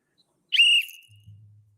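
A single sharp, shrill whistle blast is blown at a congressional forum. It is loud and close, lasts about a quarter second, and is followed by a low muffled rumble.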